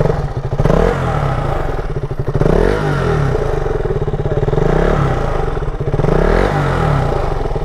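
Running engine of a faulty motorcycle, a steady loud mid-pitched drone with rough pulsing surges and clattery mechanical rattling throughout, close by with no talk.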